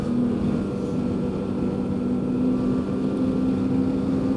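The 800 engine of a 2015 Polaris Pro S 800 snowmobile on a thinly snowed trail gives a steady, loud, even drone with a constant hum, holding at one pitch with no speech.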